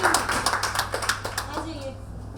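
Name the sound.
audience applause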